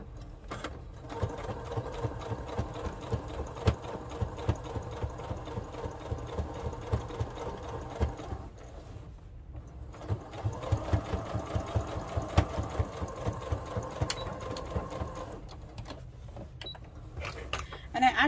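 A sewing machine runs in two long continuous stitching bursts along a tea towel seam, steady and close, with a brief pause between runs and talk over the motor.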